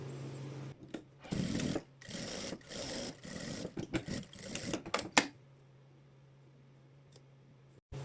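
A sewing machine stitching a pillowcase flap, several close bursts of rapid mechanical clatter separated by short pauses, followed by quiet with a couple of faint clicks.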